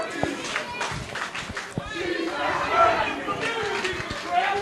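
A wrestling crowd at a heavyweight championship match shouts and chatters steadily at close range, with a few sharp claps, a loud continuous hubbub of voices that peaks near the middle.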